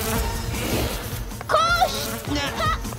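In the cartoon Miraculous: Tales of Ladybug & Cat Noir, a dense, droning buzz of many bees fills the air, while voices and strained cries rise over it.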